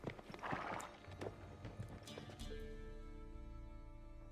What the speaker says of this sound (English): Horse is riding up.